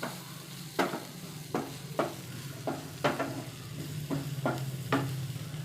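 Onions frying until light brown in a pan, a steady sizzle with about nine sharp scraping stirs of a utensil at irregular intervals, close and moderately loud, with no talking.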